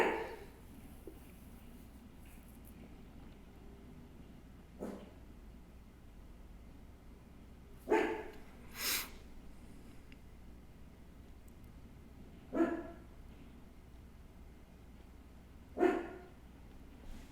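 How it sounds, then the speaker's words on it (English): A pet dog barking indoors, a handful of isolated sharp barks spaced several seconds apart, faint over a quiet steady background hum. "Sorry, that my dog's chiming in."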